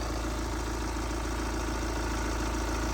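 Mini Cooper S engine idling steadily while warming up to temperature after repairs, a constant loud low rumble with no change in pace, close by and alone.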